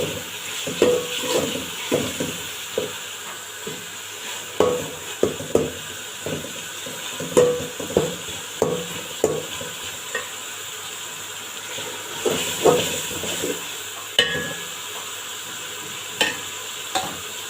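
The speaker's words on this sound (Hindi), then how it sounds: "और फिर हम इन सबको अच्छे से भून लेंगे।" Tomatoes fry with ginger-garlic masala in a pan, the steady hiss of sizzling broken by repeated scraping stirs of a spoon against the pan in an uneven rhythm, close and clear with no voices.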